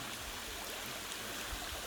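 Water flows steadily at Than Nam Sai waterfall in Phu Pha Yon National Park, a faint continuous rushing hiss with no distinct splashes and no voices.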